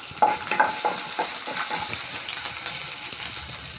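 Ginger, garlic and green chillies fry in hot oil in a pan, giving a steady close sizzle broken by a few sharp spatula scrapes and clinks as they are stirred.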